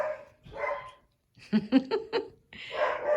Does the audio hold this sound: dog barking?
yes